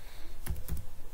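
Two quick clusters of keystrokes on a computer keyboard, close and crisp, separated by a short pause over a quiet background.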